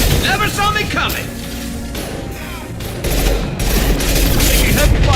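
Rapid bursts of rifle and automatic weapon fire in the Mass Effect 2 video game, loud and close, with mechanical clatter and booms amid a busy combat mix, louder again in the second half.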